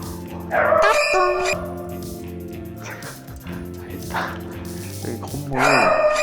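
A startled pet dog yips and barks in two short bursts inside a small apartment building, loud near the start and again at the end, with people talking in between.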